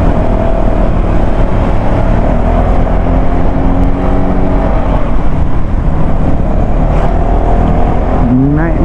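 A loud, continuous engine drone straining steadily, as if a motorbike labors uphill, with a rising rev near the end.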